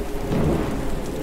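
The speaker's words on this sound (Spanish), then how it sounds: "La tormenta." Thunderstorm ambience in the Luna's Fishing Garden video game: steady loud rain with a deep rumble of thunder running throughout, no voices.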